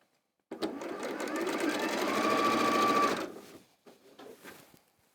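Sewing machine stitching cream and pink fabric pieces together for a quilt block, a close, steady run of rapid stitching for about three seconds, then short, quieter bursts.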